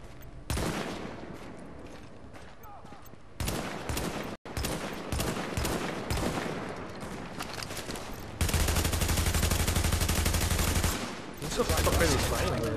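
Gunfire in the video game The Division rattles in dense automatic bursts, loud and continuous, with short pauses and a sustained heavy barrage in the final seconds.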